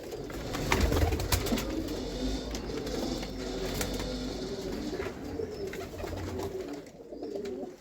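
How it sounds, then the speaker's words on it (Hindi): Rooftop Sialkoti pigeons coo steadily at close range, their soft low calls layered over a constant outdoor hum with occasional rustles and wing movements. "वीआईपी सियालकोटी छत वाले कबूतर"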